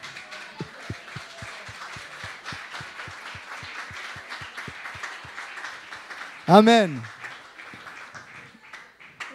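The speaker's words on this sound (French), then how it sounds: "Et on vous applaudit." A church congregation claps in a steady, rhythmic beat of many hands, moderately loud and continuous, while a voice rises briefly over it in the middle.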